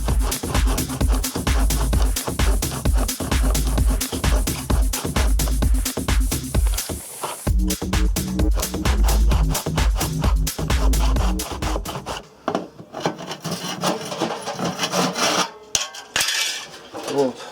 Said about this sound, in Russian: В самых ответственных местах я пилю мелким зубом, чтобы не испортить ничего.